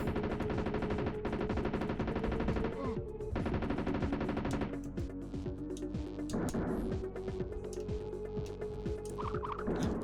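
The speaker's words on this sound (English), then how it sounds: "Just shoot the bullet with the gun" Rapid bursts of gunfire from a dinosaur video game crackle steadily under loud, tuneful game music, with no one talking.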